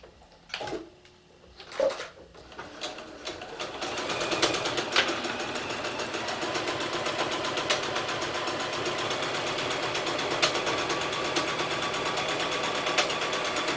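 A few clunks and knocks, then a sewing machine starts up and stitches steadily with a fast, even mechanical whir and rhythmic ticking.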